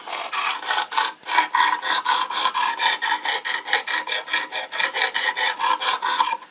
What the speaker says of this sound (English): I'm going to sharpen this thing up